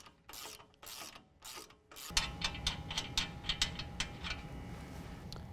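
A ratchet fitted with an 18mm socket loosens the lower strut nuts on a 2015-17 Ford F-150 4WD during a 6-inch lift kit install, giving quick bursts of close, sharp mechanical clicking followed by a steadier, denser clicking run.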